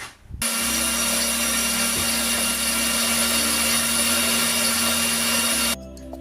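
A loud electric grinder mill turns millet, rice and urad dal into flour, a steady harsh whirring drone starting abruptly and running without a break for several seconds before cutting off, no voices.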